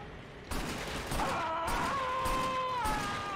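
Continuous suppressing gunfire in the shooter game Killzone 2 starts abruptly and keeps up as a dense, loud rattle, with a sustained whining tone rising over it partway through.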